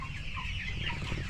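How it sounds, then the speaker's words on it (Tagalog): Rhode Island Red chickens in a small backyard flock cluck softly and continuously at close range, with no talking over them. "Mga alagang manok."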